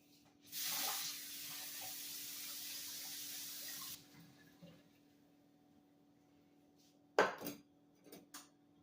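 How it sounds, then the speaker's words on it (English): A kitchen tap runs hot water for a cookie recipe in a steady rushing burst of about three seconds, then stops; a few brief clinks and splashes follow later, with no talking. "it says add a few drops of hot water"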